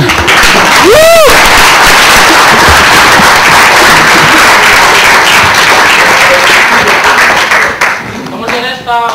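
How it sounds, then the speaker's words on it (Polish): Loud, dense applause from an audience at an award ceremony fills the clip nearly throughout, with cheering voices and a brief whoop near the start, thinning toward the end. "Prosimy o klaski"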